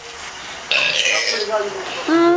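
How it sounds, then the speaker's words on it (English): A guttural burp rises during a burping contest in Puerto Rico, a short croaking belch with voices chattering around it. "El contest de tirar burps, de tirar gases."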